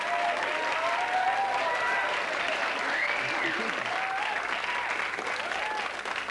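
A studio audience at a 1992 television quiz show applauds a departing schoolgirl contestant, a dense, steady wash of clapping that fills the room, with faint voices and tones mixed underneath.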